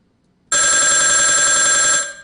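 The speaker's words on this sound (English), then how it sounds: "That is a phone ringing." A telephone bell rings loudly and continuously for about a second and a half after a quiet start, then cuts off abruptly, with no talking over it.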